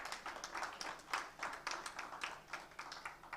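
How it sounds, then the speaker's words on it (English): Light applause from a small audience at a book launch, a handful of quiet, uneven claps pulsing in rapid bursts at low volume. "A round of applause, please."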